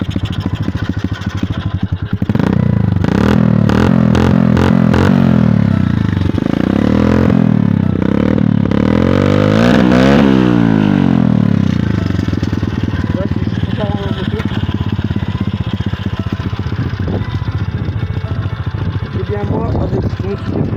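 A YCF 125 pit bike engine runs loud and close, with several sharp revs and rising, falling pitch sweeps before settling into a steady, rough idle that fills the whole stretch.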